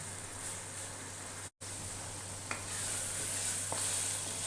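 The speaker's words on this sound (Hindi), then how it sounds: "अब हम इसे सिर्फ 2 से 3 मिनट तक भुनेंगे।" Beef keema fries in ghee for a restaurant-style Bihari qeema, hissing in a steady, soft sizzle that cuts out for a moment, with a few faint stirring scrapes.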